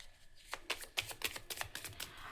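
Playing cards are shuffled for a tarot-style card reading, a quick run of crisp riffling snaps and flutters that starts after a short quiet pause and carries on close and steady, with no talking.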